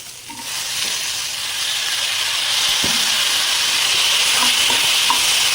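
Onions sautéing in a pan for a coriander greens dish, giving a steady loud hiss and sizzle that grows slightly stronger, with a few faint clinks of a utensil and no talking.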